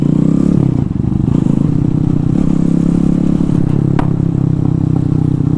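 A Honda Grom fitted with a swapped Zongshen 212cc engine running loud and close, with a continuous rough, rattly single-cylinder drone that holds fairly steady, plus a sharp clack near the end.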